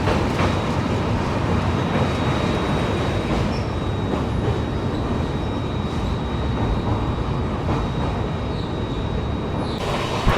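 The Bangalore Rajdhani Express passes close by in Karnataka, a loud continuous rumble of wheels and carriages with a steady high whine throughout, sustained for the whole stretch with no voices.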